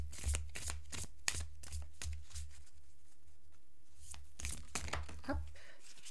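Tarot cards are shuffled and drawn by hand close up, soft riffling and slapping bursts in quick clusters at the start and again near the end, with a quieter pause between.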